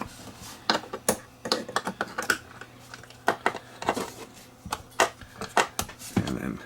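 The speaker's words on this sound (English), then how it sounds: "Let me get out my snippers. Snip these open." Plastic seals on a TASCAM DA30 being snipped open with snippers: a run of sharp, irregular clicks and snaps, close and fairly quiet, with small handling knocks in between.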